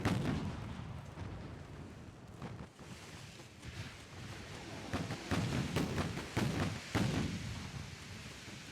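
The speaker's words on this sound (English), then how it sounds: "right now we are committing to some good old-fashioned just broadsiding here" Warship broadside gunfire in Ultimate Admiral Dreadnoughts, a series of booming cannon shots over windy sea ambience, scattered at first and then clustering into several heavy reports in the latter half, with no talking.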